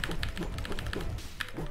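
Fingers tap on a computer keyboard in a quick, uneven run of crisp clicks, close and fairly loud, with a brief pause before the keystrokes resume.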